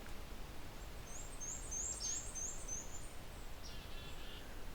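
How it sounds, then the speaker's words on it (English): A black-capped chickadee gives a quick series of high, thin calls in the distance over steady outdoor background noise. "There's a black-capped chickadee behind me."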